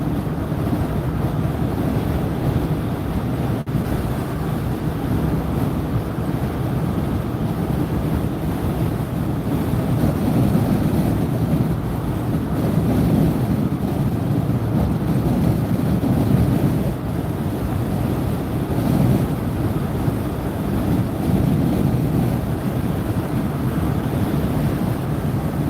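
Wind buffeting a tall van while it drives on a highway, heard as a steady, loud low roar and rumble that swells and eases over half a minute with no talking.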